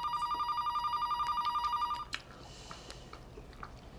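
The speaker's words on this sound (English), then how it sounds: "We're not going to answer the phone during dinner." A household telephone rings at a family dinner, an electronic trilling bell pulsing rapidly for about two seconds, then stopping, leaving faint room noise and small clinks.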